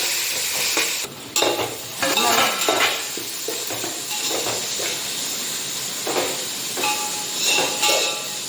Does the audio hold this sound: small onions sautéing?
yes